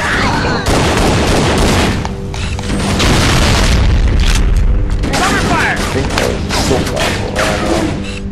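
Assault rifle fire and heavy booming explosions in Halo: Combat Evolved Anniversary, loud continuous battle noise with thuds and bursts throughout, voices mixed into the chaos.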